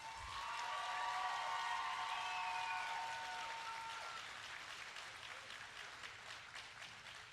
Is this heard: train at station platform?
no